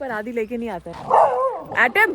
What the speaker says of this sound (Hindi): वो कुत्ते भौंक रहे हैं ना